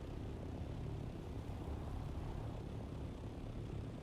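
The copter engine in the Dune Awakening video game drones steadily at a low, muffled level, a constant rotor-and-engine rumble with no breaks and no talk.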